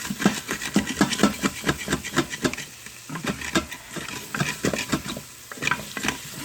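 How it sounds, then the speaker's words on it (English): Steak browning in oil in an Instant Pot on saute, with a utensil repeatedly scraping and stirring up browned bits: a steady run of close, rhythmic scrapes over a soft sizzle, with no talk. "So I'm going to let these saute and get these brown bits up"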